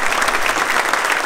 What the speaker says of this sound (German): Und das ist Ihr Applaus für Ihre Finalteilnahme bei Ludwig 2017.